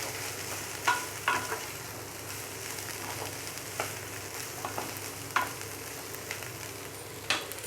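Cabbage stir-frying in a pan over a high gas flame, a constant close sizzle with occasional sharp clicks and taps from stirring scattered through it.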